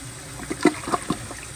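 A 2008 Jacuzzi Espree toilet flushes weakly because its flapper does not open fully, giving a short, fairly quiet gurgle of water broken by a few soft clunks.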